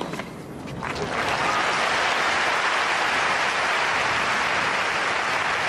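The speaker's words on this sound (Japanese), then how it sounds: "お聞きの大歓声。" A big crowd at a tennis final in Japan, Federer against Henman at the 2006 AIG Open, breaks into loud, sustained cheering and applause that swells within a second and holds as a dense roar.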